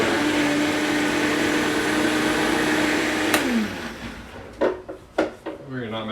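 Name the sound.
blender blending osso bucco sauce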